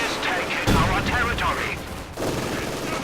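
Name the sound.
gunfire in Company of Heroes 2 video game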